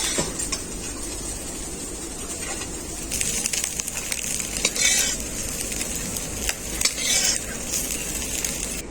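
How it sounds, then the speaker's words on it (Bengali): Small fried shrimp are lifted out of a wok of hot oil, with a continuous loud sizzle and crackle broken by scraping and clinking of a metal spatula against the pan. "চিংড়ি মাছটাকে আমি খুব ভালো করে ভেজে নিয়েছি এখন তুলে নেব"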